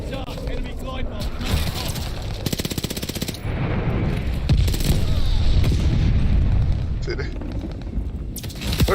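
Enemy glide bomb blast in a shooter video game, a loud rumbling explosion with crackling machine-gun-like bursts over sustained noise, under talk.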